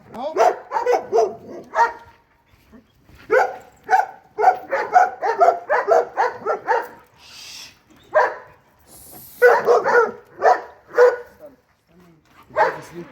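Dogs bark in loud, close bursts of rapid repeated barks, pausing briefly between volleys, with a few yips and whimpers mixed in.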